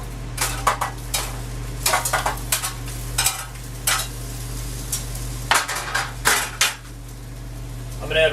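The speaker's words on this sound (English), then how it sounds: "I'm going to scrape all my tomatoes in here." Tomatoes scraped into a hot pan with a utensil, a series of sharp scraping and clinking strokes against the metal over a steady low kitchen hum, close and fairly loud.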